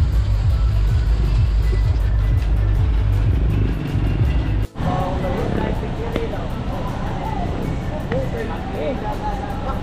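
Cars idling and creeping in a traffic jam in Carmen, a steady low engine rumble close by throughout, with a voice talking over it.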